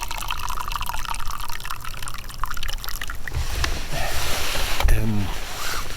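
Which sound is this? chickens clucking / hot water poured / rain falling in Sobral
hot water poured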